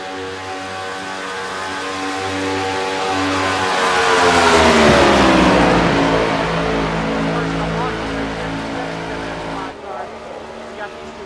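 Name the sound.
race cars drafting in the iRacing NASCAR game at Daytona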